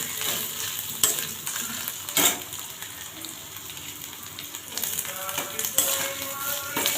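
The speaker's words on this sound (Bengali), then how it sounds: "নারকেলটা একটু ফ্রাই করে নেবো অল্প করে" Grated coconut frying with ginger in a pan, a close sizzle broken by several sharp stirring scrapes of a spatula against the metal.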